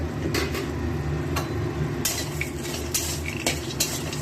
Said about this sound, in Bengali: সব মশলাগুলো এবার এই শুকনো কড়ায় একবার টেনে নেব।